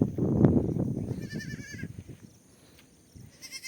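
Young goat kids bleat in a shepherd's pen among sheep, several close, quavering calls that are loudest at the start before thinning out, with a few higher cries near the end.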